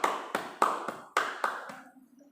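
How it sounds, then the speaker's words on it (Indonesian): Classroom applause for a student, a handful of sharp claps in uneven bursts, fairly close, fading out after about two seconds. "kasih aplaus dulu kepada kawan kita Junaidi"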